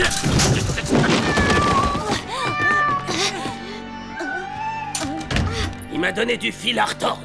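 A cartoon cat in a French children's animated series meows loudly several times, its drawn-out, wavering cries mixed with bumps and thuds while characters talk over and between the calls.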